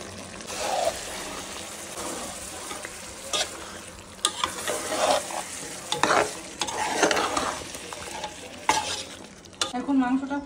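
Beef sizzles loudly in a pan and is stirred again and again, with irregular scraping strokes over a constant frying hiss. A few sharp clinks of utensil on pan stand out near the end, and no one speaks.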